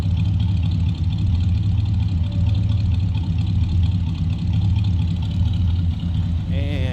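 A 1965 Mercury Monterey convertible with a 390 V8 rumbles at idle, a steady deep, throaty exhaust note held close and loud for the whole stretch, with a faint talking voice over it.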